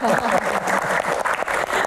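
Brief burst of audience clapping at an Indonesian Q&A event with the health minister, fairly rhythmic and busy, with voices mixed in at the start.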